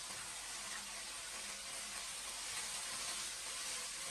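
Eggplant and green beans stir-fried in a wok with poured-in sauce and green pepper strips give a steady, close sizzling hiss that holds evenly throughout, with no talk over it.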